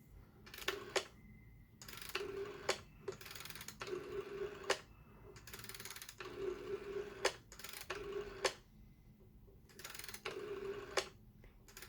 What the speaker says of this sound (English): And let's dial some numbers.